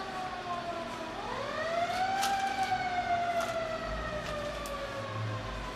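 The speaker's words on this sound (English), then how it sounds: "There goes the fire engine." A fire engine siren rises and wails steadily as it passes, moderately distant, its tone sweeping upward then holding over background traffic.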